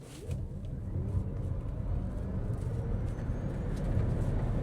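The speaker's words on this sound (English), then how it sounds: "Let's quickly stop here and see how this thing accelerates." A 2026 Subaru Uncharted GT electric car with 338 horsepower accelerates hard on the road, heard from inside as a steady low rumble of tire and road noise that builds gradually, with no voices.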